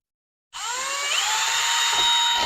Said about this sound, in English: Now we got our pilot hole drilled.